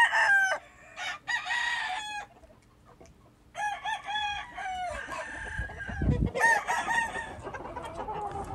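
Cowan cross gamecock roosters crowing in a farmyard, several loud, close cock-a-doodle-doo calls in separate bursts with brief pauses, plus clucking and a low thump near the end.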